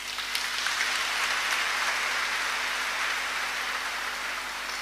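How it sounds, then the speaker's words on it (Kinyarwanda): Congregation clapping during an Easter mass in a church, a dense, steady wash of applause that holds at an even level from start to finish with no voices over it. "Mwabampereye amashyi."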